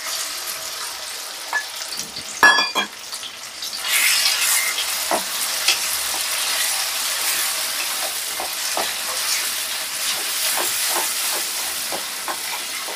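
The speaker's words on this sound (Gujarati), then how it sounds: "આ રીતના ઘીમાં શેકી લેવા મગને" Boiled whole mung beans sizzle and fry in hot ghee in a pan, a steady close hiss with stirring scrapes and small pops throughout, a brief louder clatter early on.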